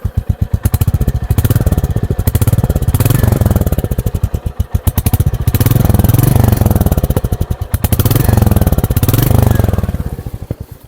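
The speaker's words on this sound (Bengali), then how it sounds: "এই বাইকের ইঞ্জিনের সাউন্ড এখন আমি আপনাদের শোনাবো" A Royal Enfield Meteor 350 motorcycle runs with its engine and exhaust thumping loudly at close range, a steady rhythmic pulse that swells with repeated throttle blips and then settles back toward idle.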